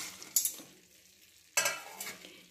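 A raw mango mixture is stirred in a pan, two brief scraping, sizzling bursts separated by a quiet gap, faint and close, with no speech.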